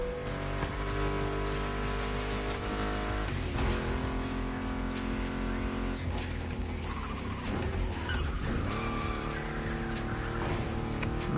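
A racing car engine roars continuously with tire squeal and skidding as a Mustang GT drifts in the video game Crazy Hard Racing, loud and steady with electronic game-like tones.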